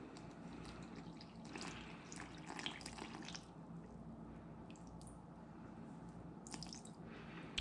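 Water pouring into bread flour in a bowl while making sourdough dough, a faint splashing trickle and drips over a few seconds, quiet and close with no talking.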